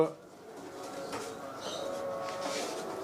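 A pigeon coos softly in a few low, rolling calls against quiet background noise, with a voice talking faintly nearby.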